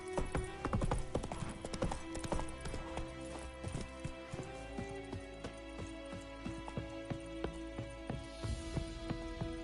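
Roach, a horse in the Witcher 3 video game, clip-clops steadily on hard ground. The hoofbeats stay close and even across the whole stretch, with a faint whinny near the start.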